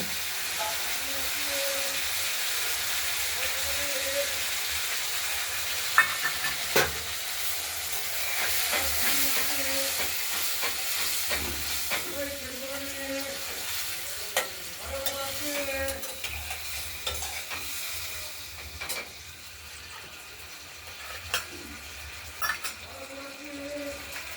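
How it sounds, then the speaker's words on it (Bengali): Spice paste for a rohu fish curry fries in oil and gets stirred, a steady sizzle and hiss running throughout with scattered scrapes and clinks of the spoon against the pan, plus a faint tonal hum in the background. "মশলাটা কষানো হচ্ছে"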